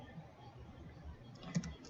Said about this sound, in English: we're going to type in enable